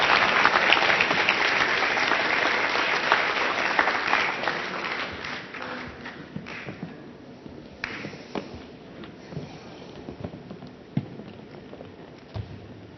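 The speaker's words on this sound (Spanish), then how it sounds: "Un aplauso para ellos, por favor." Applause from a conference audience swells at the start and thins out over several seconds into scattered claps, then a few isolated claps near the end.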